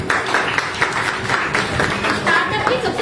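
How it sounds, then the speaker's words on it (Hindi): An audience at a direct selling training session claps together in a loud, steady burst of hand claps, mixed with voices under the noise. "एक बार ताली बजाओ।"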